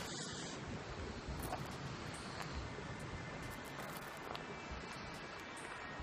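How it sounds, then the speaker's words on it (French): Wind gusts buffet an outdoor microphone, producing a faint, continuous rumbling roar with irregular puffs and flutters throughout, and no voices present. "Alors là, il y a pas mal de vent, j'espère que ça va pas trop s'entendre sur la vidéo."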